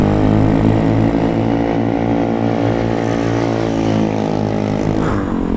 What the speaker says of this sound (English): How about that exhaust though? Holy crap. That thing sounds so good.